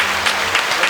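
A podcast studio audience claps and cheers in a dense, steady burst of applause, close and loud throughout the short moment with no pauses.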